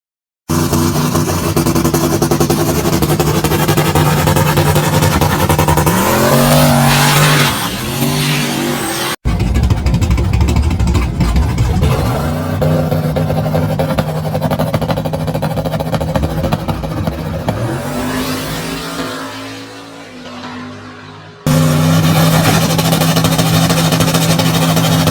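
Race truck engine roaring loud and steady, slowed to slow motion, with deep drawn-out rumbles and falling pitch sweeps as it reacts on test runs, in three separate passes with hard cuts between them.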